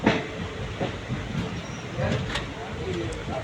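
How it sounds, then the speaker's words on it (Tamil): Express train from Karur to Palakkad pulling out of the station, a steady rumbling roll with faint clacking, heard close by with voices murmuring underneath. "இப்போ தான் கரெக்டாக கிளம்புது வண்டி"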